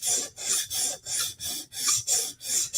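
Knife edge rasping across a 150 grit sharpening stone in steady back-and-forth strokes, about eight even passes with brief pauses between, close and clear with no talking.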